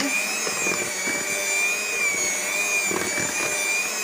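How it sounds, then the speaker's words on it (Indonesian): Electric hand mixer whirring steadily as it beats 100 ml of coconut oil into a cake batter for dry donut-style sponge cake, a continuous close, loud motor whine with faint scraping underneath. "Kita kocok ya, kita mixer sampai betul-betul tercampur dengan rata ya minyak kelapa"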